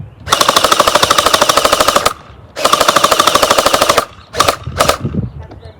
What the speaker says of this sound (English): We're gonna start on semi.